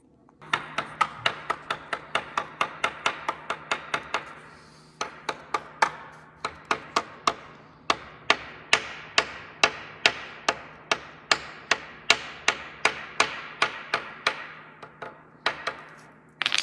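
A small hammer strikes a metal bracket for mounting a pump in a workshop, dozens of sharp ringing blows in a steady, slightly uneven rhythm, close and loud, with no talking.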